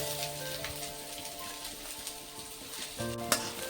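Two batches of onions fry together in a pan, giving a continuous close sizzle with faint crackles and an occasional clink of utensils, the hiss swelling slightly toward the end.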